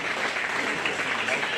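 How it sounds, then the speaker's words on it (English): Audience applauding kids at a county fair livestock show, a steady, even burst of clapping from a crowd throughout. "Give all of these kids a huge round of applause for all of their hard work."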